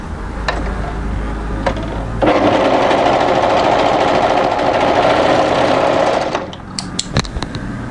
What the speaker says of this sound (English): we're going to overlock that seam